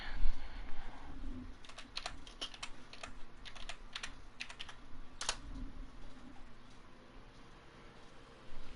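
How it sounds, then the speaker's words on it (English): Fast typing on a computer keyboard, a dense run of rapid, crisp key clicks with a few sharper strokes, steady and close for several seconds with no talking. "Geez, you type quick."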